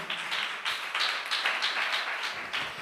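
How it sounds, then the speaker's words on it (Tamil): Church congregation clapping hands together in a steady rhythmic beat, a fast, even run of claps that carries on without pause at moderate loudness. "எல்லாம் கைத்தட்டி ஆண்டவருக்கு நன்றி சொல்லுங்களேன்"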